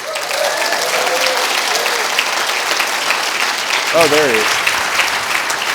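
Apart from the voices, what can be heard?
audience applause for a summit speaker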